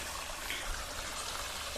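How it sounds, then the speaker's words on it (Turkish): A small village creek swollen by rain flows steadily, giving a soft, continuous trickling rush with no voices. "Ya en çok sevdiğim şey şu suyun sesi."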